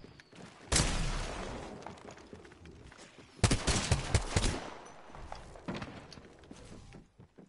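Bursts of gunfire in Apex Legends, with two loud clusters of sharp shots fired by a sniper and other players, close and punchy, separated by quieter stretches of distant combat and movement.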